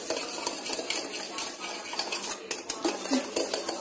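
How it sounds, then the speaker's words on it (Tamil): A metal spoon clinks and scrapes around a cup, mixing sugar into warm water for dalgona coffee, with quick irregular taps and stirring strokes close by. "இதை நல்லா நான் மிக்ஸ் பண்ணி எடுத்துக்கிறேன்."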